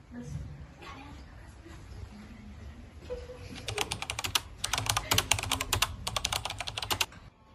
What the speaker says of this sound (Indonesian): Sayuti, tolong kau ketikkan naskah ini.